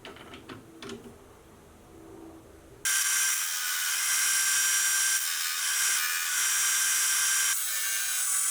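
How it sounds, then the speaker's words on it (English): A cup grinding wheel bites into hardened tool steel, cutting a square drive on a knurling tool part: faint scraping and taps at first, then a loud, steady high-pitched grinding hiss that holds with slight surges. "I'm going to grind in the square drive with a cup grinding wheel."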